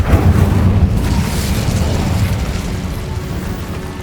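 Incendio fire spell cast in Hogwarts Legacy, a loud sustained whooshing burst of flame with a deep booming rumble that stays dense and steady throughout.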